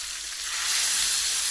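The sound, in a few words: tempering frying for tomato toor dal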